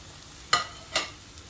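Tomatoes fry with prawns, ginger and garlic in a pan, heard as two brief scraping stir strokes over a faint sizzle.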